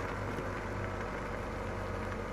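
A tractor engine in Farming Simulator 2017 winds down as the throttle is released, a steady low idling drone that holds evenly throughout, moderately quiet with no talk over it.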